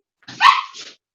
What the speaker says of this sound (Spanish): Se puso loco el perro.